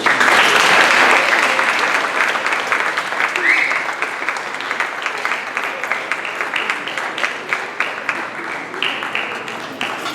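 An audience at a CedarBridge Peace Day gathering applauds to welcome a speaker to the stage: loud, sustained clapping from many hands that starts strong and gradually thins out, with a little crowd murmur.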